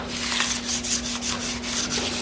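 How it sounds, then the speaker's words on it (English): Fine sandpaper rubbing copper into a metal sign with lettering, a close, steady scratchy rasp in short repeated back-and-forth strokes over a constant low hum. "Hitting it with a fine sandpaper"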